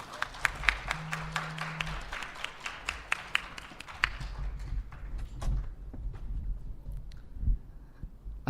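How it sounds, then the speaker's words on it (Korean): An audience at a Korean tech presentation about iPhone claps a welcome for a speaker, several seconds of distinct overlapping claps that stop abruptly, followed by quiet room noise with scattered soft thumps and shuffles. "큰 박수로 맞아주시길 바랍니다."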